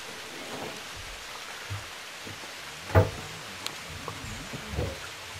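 Rain falls in a forest along a river trail, a soft steady hiss of drops on leaves with a few louder splats and a brief thud near the middle, no voices.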